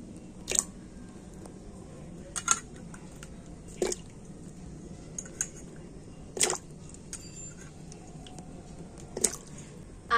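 Cut taro pieces drop into water in a wok on a stove, making a handful of brief, soft plops and splashes spaced a few seconds apart over a quiet background.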